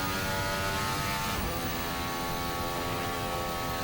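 Racing car in Assetto Corsa blasting down the Kemmel Straight, engine note droning loud and steady with a slight pitch shift partway through, sustained high-revving tone alone without talk.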